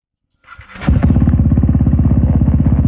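A KTM 390 Duke motorcycle engine with no exhaust cranks and fires up, then settles into a loud, raw, rapidly pulsing idle with a harsh unmuffled bark, close up.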